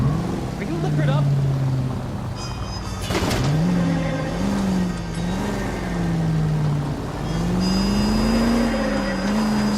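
Car engine from the video game L.A. Noire droning and rising in pitch as it accelerates and shifts, loud and continuous, with a voice speaking over it.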